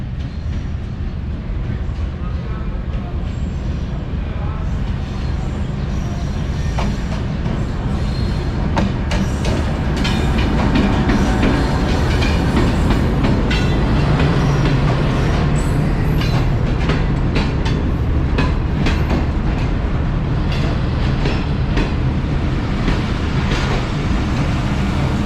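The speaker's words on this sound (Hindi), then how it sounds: "हमारी आज की ट्रेन 38 डाउन बाबा फरीद एक्सप्रेस पहुंच रही है लोधरा जंक्शन पर" A GEU 20 diesel locomotive, number 4567, hauls the 38 Down Baba Fareed Express into Lodhran Junction, its steady rumble and rail clatter loud and continuous throughout, with faint voices in the background.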